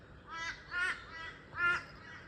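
Crows cawing in a run of harsh calls, a few moderately near and others fainter, against quiet background noise.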